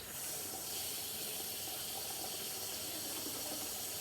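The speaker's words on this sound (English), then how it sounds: "I'm boiling water for the noodles" Water boiling hard in a pot for noodles, a steady dense hiss and bubbling roar that stays continuous and fairly close throughout, with no talk.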